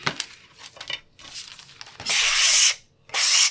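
Quilting fabric being trimmed on a foundation paper block, with several short scraping, crinkly bursts of cutting and paper rustle, close up, the last two longer and louder, no talking.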